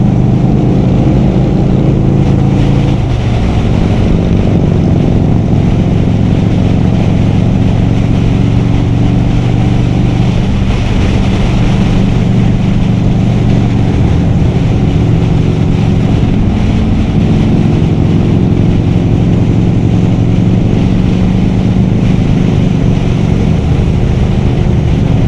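A 1984 Harley-Davidson motorcycle engine running loud and steady at close range, a continuous rumbling drone without pauses or speech.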